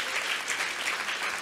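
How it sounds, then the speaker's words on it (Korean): Dense applause fills a church testimony gathering, an even wash of many hands clapping, loud and close for a brief stretch with no voices on top. "방금 일어난 일을 위해서 박수 쳐주시고"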